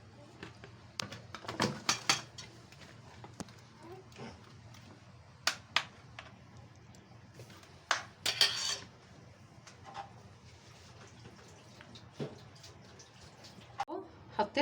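Marinated chicken wings are set onto a metal baking tray with scattered clinks, clatters and wet handling sounds, some sharp and close, while a person talks in the background.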